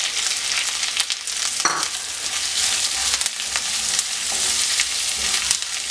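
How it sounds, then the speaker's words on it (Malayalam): Sliced onion sautéing in a pan makes a loud, dense, continuous sizzle with occasional stirring scrapes, close and steady throughout. "അത് ഇതിനകത്തേക്ക് ചേർത്ത് നല്ലതുപോലെ ഒന്ന് വഴറ്റിയെടുക്കണം."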